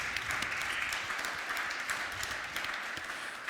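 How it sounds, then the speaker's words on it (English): Audience at an economics and philosophy event applauds as a speaker, the president of the Lithuanian Free Market Institute, comes on stage, giving a steady wash of clapping that holds evenly throughout. "Big applause for her."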